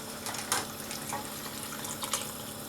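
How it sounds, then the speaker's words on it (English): Boiling water is poured from a can into a cooking pot to make stock for a vegetable lasagna, a close steady splashing pour with a few brief louder splashes. "I'm also going to put half a can of boiling water to make some stock, and that's going to go in too"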